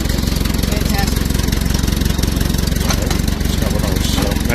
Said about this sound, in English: right now she's idling at 650 RPM, which is fantastic.